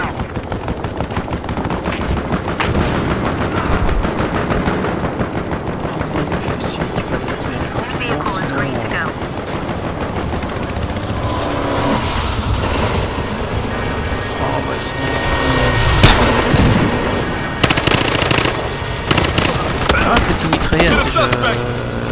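Submachine gun fire in Battlefield Hardline, with sustained automatic bursts and scattered shots amid battlefield noise and passing vehicles, under a voice talking throughout.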